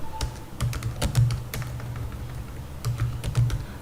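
Someone types code on a computer keyboard while writing GraphQL type definitions: quick irregular clusters of crisp keystrokes, close and fairly loud, with brief pauses between bursts.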